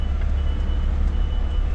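A truck reversing while dropping a trailer gives a loud, steady low engine rumble, heard up close for a couple of seconds.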